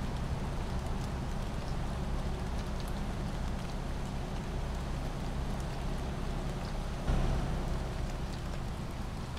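Steady, even rain hisses and patters continuously, with a brief low thump midway and no voices, in the truck driving game Euro Truck Simulator 2.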